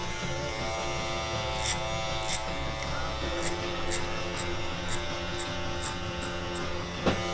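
Electric hair clippers with a number 2 guard tapering the back of a haircut in a barbershop, a steady close buzzing hum with brief clicks and tonal shifts as the blade moves through hair, with faint background voices.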